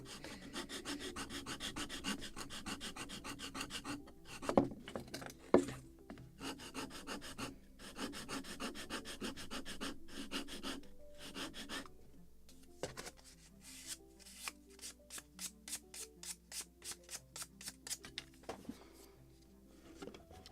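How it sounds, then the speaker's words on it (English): A wooden plank for a 1776 gunboat Philadelphia model ship is sanded by hand, steady rasping strokes at first, then a run of quick, evenly spaced short rubs, close up and alone. "I will sand it without cutting."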